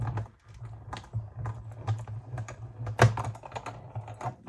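Cardstock inside an embossing folder is run through a hand-cranked embossing machine for a Stampin' Up! card, giving a steady series of close, crisp clicks and ticks over a low hum, with one sharper snap near the end.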